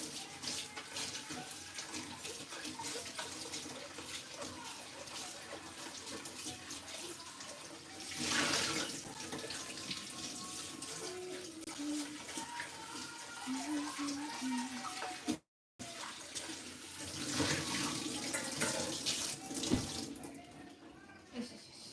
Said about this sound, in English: Let me just rinse out the bowl I was using.